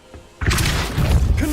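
Depulso spell cast in Hogwarts Legacy: a sudden loud forceful blast after a moment of quiet, followed by a sustained rumbling, crashing wash of impact sound.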